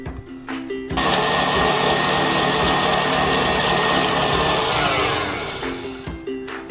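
A stand mixer whips Italian meringue, its steady loud motor whir starting abruptly after a second and running continuously before easing off near the end, with no talk.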